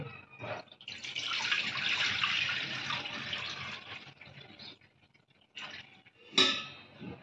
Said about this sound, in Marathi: पाणी ओतून घेते